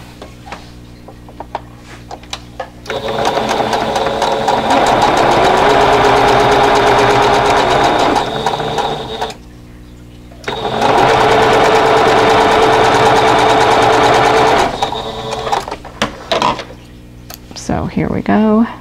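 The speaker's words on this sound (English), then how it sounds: "just hold them and then go to the sewing machine" Domestic sewing machine stitching pieced cotton quilt block units together, two sustained runs of steady rapid mechanical whirring, close and loud, separated by a short pause, with brief handling noises at the start and end.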